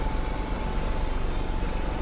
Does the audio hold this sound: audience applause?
no